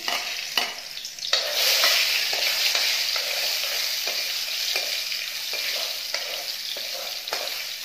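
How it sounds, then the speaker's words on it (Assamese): Garlic sizzles in hot oil, a bright continuous crackle punctuated by periodic scrapes of a spoon stirring the pan. "তেলত নহৰুখিনি দি দিছো"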